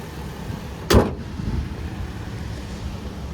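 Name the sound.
2008 Toyota Tacoma 4-liter V6 engine idling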